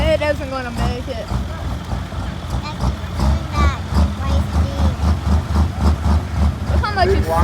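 Idling engine of a pulling tractor at a tractor pull event, running unhooked and smoking, a steady low rumble throughout with people talking over it.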